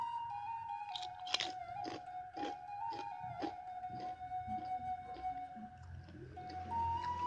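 Close, loud crunching bites and chewing of crispy fried egg rendang with dry spice paste, a steady series of crisp crunches over a faint tonal background hum.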